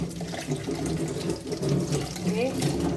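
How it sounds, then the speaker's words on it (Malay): Tap water runs steadily into a sink while hands are washed before making thosai, a close continuous splashing flow with a voice talking over it. "Basuh tangan kita bersih-bersih ya."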